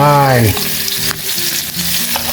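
Curry paste stir-fries in plenty of hot oil for a spicy red ant egg stir-fry, a loud, dense close-up sizzle with a few quick scraping stirs after a brief opening hum.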